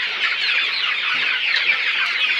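Broiler chicks in a cage chirp and cluck as a dense, continuous high-pitched chorus of many birds, close and steady with overlapping peeps.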